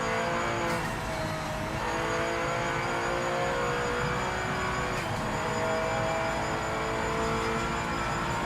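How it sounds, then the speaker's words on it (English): Race car engine with a turbo whine in the Project Motor Racing video game, a steady loud drone with a high whining tone held throughout, alone without talk. "It's got that turbo whine"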